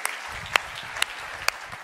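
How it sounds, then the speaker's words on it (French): Audience applause following a talk on living in harmony with God: a soft, thin patter of clapping runs throughout, with a few louder individual claps standing out at intervals. "Vous avez le droit de l'applaudir."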